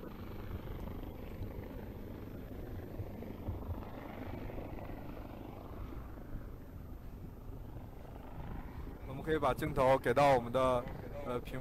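Chinese army aviation brigade helicopter flying over water during a live-fire war game, a steady low rotor rumble that holds throughout, with a voice briefly rising over it near the end.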